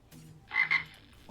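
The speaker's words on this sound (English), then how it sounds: "You see, Greninja, we summoned the frogs" Game frog croaks from a Greninja effect in a Pokémon card video game: two short, loud croaks in quick succession, fairly close and standing alone with a quiet lead-in.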